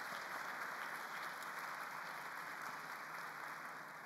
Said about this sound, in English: I'd like a quick round of applause to all our panelists